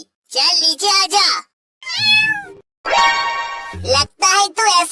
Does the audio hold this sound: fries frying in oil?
no